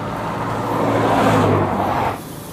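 A 1950 GMC truck engine runs close by with a loud, rough drone that swells briefly as if revved and then settles back to a lower idle.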